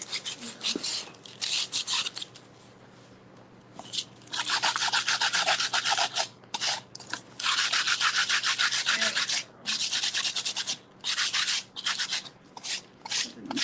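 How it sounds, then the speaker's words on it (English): Repeated strokes of hand sanding on wood, a harsh rasping scrape in steady back-and-forth bursts with short pauses, close and loud. "It's sanding nicely."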